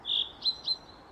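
Birds in the Sally Face video game give a short, high chirp and then two quick, faint tweets, all within about a second over a quiet background.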